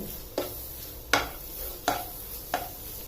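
Mango pulp being stirred into a laddu mixture in a pan, with four distinct scraping strokes spaced evenly apart over a faint low sizzle, close and fairly quiet.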